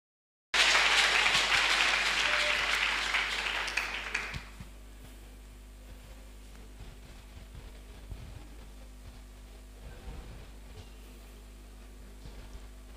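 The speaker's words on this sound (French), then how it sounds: "Acclame Jésus" A church congregation bursts into loud, sustained applause and cheering acclaiming Jesus, a dense roar that holds for about four seconds then drops abruptly to faint room murmur.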